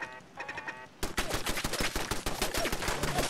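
Rapid gunfire from turrets being shot at in Fallout 4, a dense burst of loud, fast cracks after a quieter opening with a faint tonal hum, continuing without pause.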